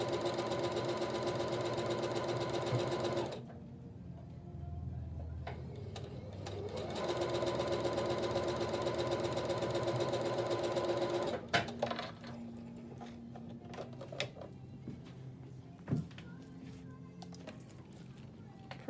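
Sewing machine stitching quilt block triangles along a bias edge, a steady close motor whir in two runs separated by a pause, followed by quieter handling clicks and rustles.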